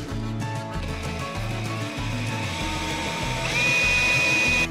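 A Bosch Biturbo cordless drill bores into wood, its motor whining steadily with a pulsing, loaded hum, then rising sharply in pitch and loudness near the end as it spins faster.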